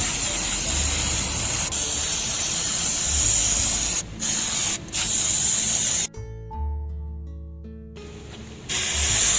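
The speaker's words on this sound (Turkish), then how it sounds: "bu da şunlara göre yani püskürtmesi çok şiddetli değil. Burada deniyoruz şimdi." Akfix cleaner sprayed onto a car's rear brake drum during cleaning, a steady close hiss of aerosol in bursts, broken by short pauses and ending in a quieter gap before the spray resumes.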